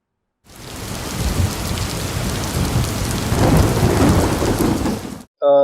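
Heavy monsoon rain pours steadily in Kutch, Gujarat, with low rumbling thunder rolling underneath, dense and loud for several seconds before cutting off abruptly.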